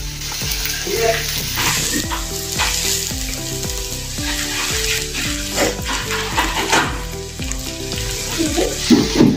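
Boiled potatoes sizzle and fry in a pan while being stirred for a quick rice-and-puffed-rice dosa recipe, a loud, continuous crackle broken by repeated scraping strokes, with occasional clatter near the end.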